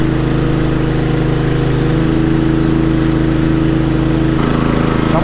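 Champion 3400 dual fuel generator running under load with compressors switched on, a steady loud droning engine hum with a constant throb, close by and without talking.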